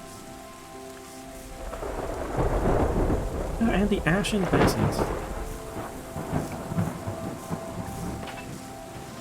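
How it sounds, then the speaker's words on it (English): Video game rain pours steadily in Terra Nil with rolling thunder rumbling through the middle, loud and close, while a voice briefly speaks over the storm. "sound of the rain"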